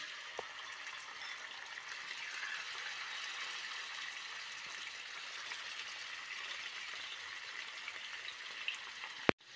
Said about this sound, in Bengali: এবার তেলটা হালকা গরম হলে চিকেনগুলো তেলে দিয়ে দিচ্ছি।